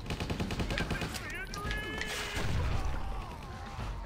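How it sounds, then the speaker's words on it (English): Gunfire in the zombie game Stubbs the Zombie, sustained rapid shots and impacts running throughout, loud and close, mixed with crashes while a voice talks over the action. "Oh God, somebody's shooting me!"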